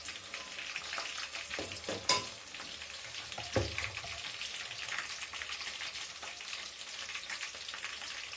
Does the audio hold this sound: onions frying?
yes